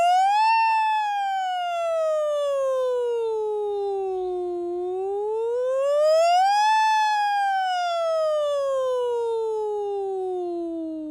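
A single voice hollers in a long rising and falling wail, imitating a siren as a traditional distress call in Sampson County, sweeping up and down twice, loud and clear with nothing else around.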